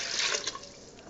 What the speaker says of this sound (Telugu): ఇప్పుడు నీళ్ళు ఇందులో పోసుకోవాలన్నమాట.